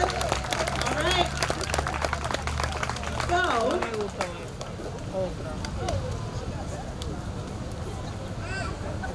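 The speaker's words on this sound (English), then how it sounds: "let me hear a round of applause" Audience applause at a Juneteenth 2021 community celebration in Walpole: a crowd clapping loudly for several seconds, fading into general hubbub and background chatter.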